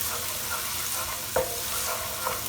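Fresh chopped ginger and garlic stirred in a hot pan with a steady, soft sizzle, and a couple of brief scrapes or clinks of the utensil against the pan.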